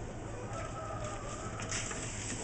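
Chickens at an egg farm, a steady mix of clucking and fowl calls filling the background with no clear single voice standing out.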